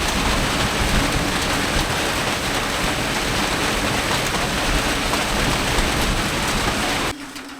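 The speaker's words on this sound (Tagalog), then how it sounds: "medyo nag-aambon-ambon pa din siya. Pero hindi na ganong malakas." Light drizzle falling in cool rainy weather outdoors, a steady even hiss of rain that drops away abruptly near the end.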